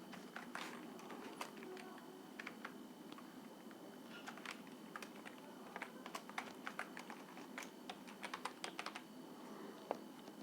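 Steady typing on a computer keyboard during a Microsoft Word 2007 lab lesson, with a quick run of light key clicks throughout and a few louder taps near the end.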